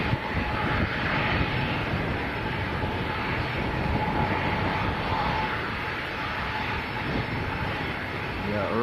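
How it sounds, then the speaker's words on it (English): A Jet2 Boeing 737-800 takes off at Leeds Bradford Airport, its engines a steady, loud, broad roar holding for several seconds without a break. "Next to go, Jet2 to Dalaman,"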